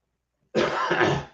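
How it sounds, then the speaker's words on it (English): A single short cough or throat-clearing burst, close and fairly loud, lasting under a second after a moment of silence. "Just a second to cough."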